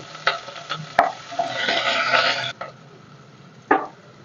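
Chopped onion for methi and dill leaf khichdi fries in a pan, producing a hiss of sizzling along with a few sharp spoon knocks and scrapes against the metal, with no speech.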